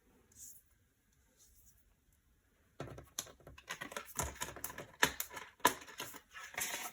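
Cards being shuffled close up, a quick run of dense riffling clicks and flutters starting after a quiet pause and growing louder.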